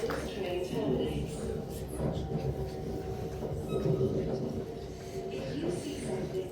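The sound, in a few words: Elizabeth line train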